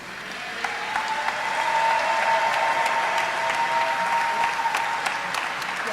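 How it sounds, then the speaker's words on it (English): A crowd gives sustained applause for fire department recruits at their academy graduation ceremony, steady clapping swelling and holding across the hall. "Let's give a round of applause for our recruits"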